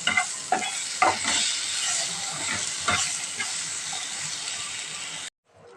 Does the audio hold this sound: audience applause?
no